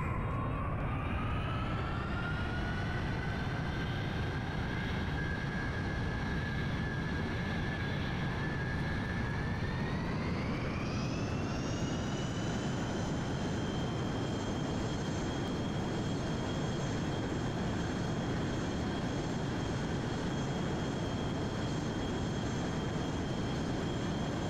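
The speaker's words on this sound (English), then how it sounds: "I also switched out the engines for more powerful, like F-16 type engines" Jet engines on a VTOL aircraft in Kerbal Space Program, upgraded to powerful F-16 type engines, give a loud, steady whine that climbs in pitch partway through and then holds high, with no talk.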